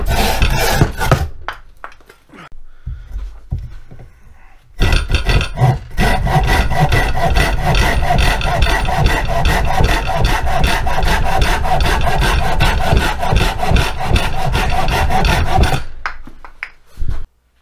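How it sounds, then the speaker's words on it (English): A vintage Corona folding saw and a vintage bow saw cut through firewood, with a few short, uneven strokes at first, then a long stretch of fast, steady, loud rasping back-and-forth sawing up close before it stops. "I just want to pit my Corona, which is what I brought camping with me, against my bow saw"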